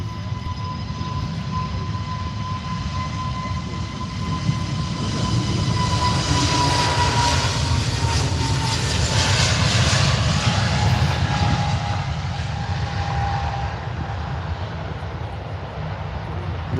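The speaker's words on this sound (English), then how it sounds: "Airways A321 Neo off to London Heathrow" Airbus A321neo taking off from Manchester Airport bound for London Heathrow, a broad steady engine roar at moderate distance that swells through the middle and slowly eases, with a faint whining tone.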